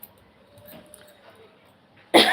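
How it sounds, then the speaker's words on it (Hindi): After a quiet stretch, one sharp, loud cough bursts out close to the microphone at the very end. "आपको देख के खांसी भी आने लग गई"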